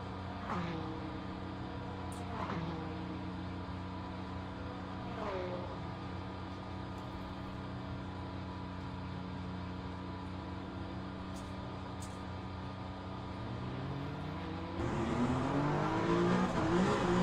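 Peugeot 9X8 LMH hypercar in Le Mans Ultimate, running at Imola, a steady engine drone with shifting gear tones and a louder revving surge near the end.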